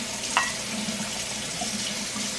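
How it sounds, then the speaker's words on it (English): Water poured into a cooking mixture, a soft steady splashing pour at low level with a small clink near the start, no talking. "I'm gonna put like a cup and a half of water in"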